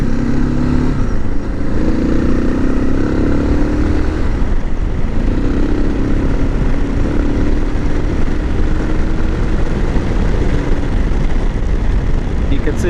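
A Suzuki DR650 motorcycle with a windscreen cruises on the freeway at night, its engine droning steadily under heavy, constant wind roar, while a rider speaks over it.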